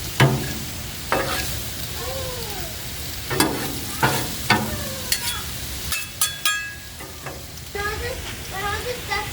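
Butter and garlic sizzle steadily on a Blackstone griddle, a continuous close frying hiss broken by scattered clinks and scrapes of a spatula, with brief voices talking at points.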